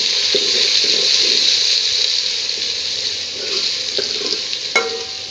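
Onions fry in a pan with roasted cumin seeds, giving a steady close hiss with faint scraping stirs and a sharp clink near the end. No voices are heard.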